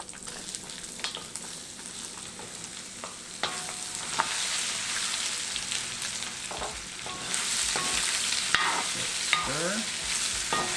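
Bottle gourd tipped into a hot pan of crisped curry leaves, loud continuous sizzling and frying with scraping stirring strokes and occasional clacks of the spoon on the pan.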